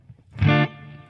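A single electric guitar note or chord rings out briefly through a pedalboard, with reverb from a Matchless amp emulation and a compressor, then decays into a soft reverberant tail.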